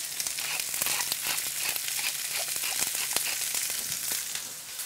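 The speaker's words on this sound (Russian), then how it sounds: "Оливковое масло льем. Жареное на оливковом масле." Garlic fries in hot olive oil with a constant, crackling sizzle and scattered pops, close up and steady, with no voices.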